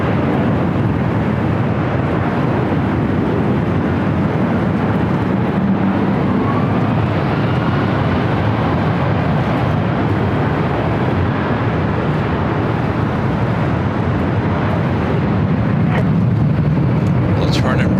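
A Delta airliner takes off from a runway at LAX, its engines a loud, steady broadband roar that fills the whole stretch, close and unbroken, with a faint rising whine near the end.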